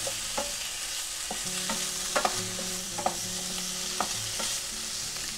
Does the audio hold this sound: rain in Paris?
no